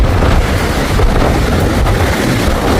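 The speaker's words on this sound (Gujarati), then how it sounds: "અને અવાજ તો આવતો જ હશે પવનનો." Strong gusty wind blowing during a storm in Canada, a loud continuous roar buffeting the microphone with rumbling low gusts throughout, close and overwhelming with no talking.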